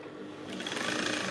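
A sewing machine runs fast, stitching the fabric of an off-shoulder blouse, as a steady whirring rattle that speeds up and grows a little louder over a brief moment, close by and with no voices.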